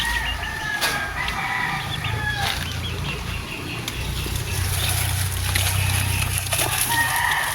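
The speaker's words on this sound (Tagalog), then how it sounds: "Chicken? Yeah." Chickens and a rooster kept by a rural Filipino household, with dense clucking and fowl calls and a crowing burst over steady background noise, close and fairly loud throughout.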